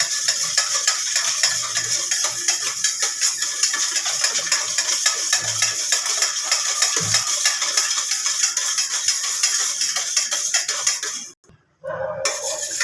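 Dhokla batter with sugar and a little turmeric being mixed in a bowl until the sugar dissolves, a steady scraping stir running continuously and close, with a brief break near the end before stirring resumes.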